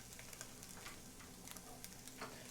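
Food frying in a pan gives a steady, faint sizzle with soft crackling pops throughout, heard close up with no talking.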